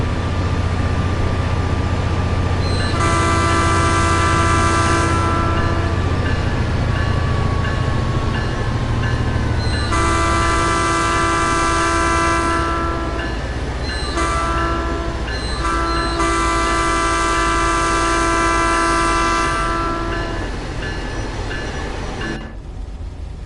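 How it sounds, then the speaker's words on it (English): A Metrolink F59PHR locomotive horn in Train Sim World 5 blares in several long, loud multi-tone blasts with short gaps, over the steady rumble of a train. "That is a very good sound for the horn as well."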